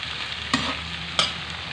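Stirring buttered shrimp in a frying pan, a steady close sizzle broken by two brief scraping clinks of the utensil against the pan.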